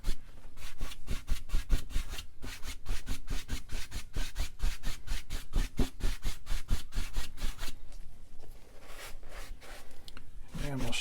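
Rhythmic, steady scrubbing of a paintbrush making crisscross strokes across a canvas, blending pink into a sky wet with liquid white on a beginner landscape painting; close, dry strokes repeat in quick succession with no talk.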